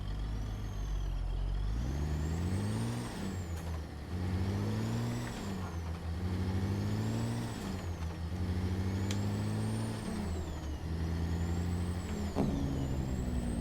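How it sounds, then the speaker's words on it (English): Truck engine from a ZEEMODS engine pack in a driving video game, revving and downshifting in repeated rising and falling pulls with sharp air-brake hisses between shifts, loud and close. "That's a little downshift action there."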